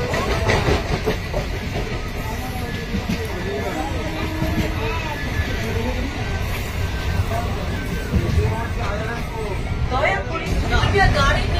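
A passenger train runs steadily after leaving Howrah station, with a continuous loud rumble and rhythmic clatter of the carriages. A murmur of passenger voices and chatter carries on underneath throughout.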